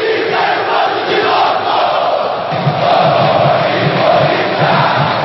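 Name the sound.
football fans singing and chanting in stadium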